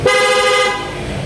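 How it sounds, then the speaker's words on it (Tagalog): A loud aftermarket horn on a Yamaha Fazzio scooter blares once, a bright brassy tone held for about two-thirds of a second before cutting off, close and alone. "Yung loud horn natin may kasamang combo lights yan"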